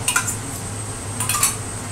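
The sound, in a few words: spoon stirring marinade and curd in a pot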